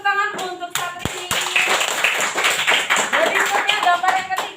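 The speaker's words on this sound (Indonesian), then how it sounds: "Kasih tepuk tangan untuk Satrini." An elementary school class claps for a student in a sixth-grade classroom. The clapping is brief and mixed with children's voices and classroom chatter.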